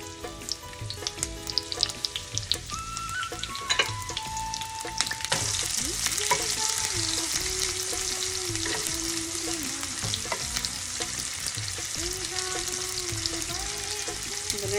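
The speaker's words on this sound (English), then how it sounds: "I'm using olive oil and also sauteing in my favorite saute pan, cast iron" Onion sautés in hot olive oil in a cast iron pan, a steady close sizzle and crackle with occasional stirring scrapes and clinks throughout.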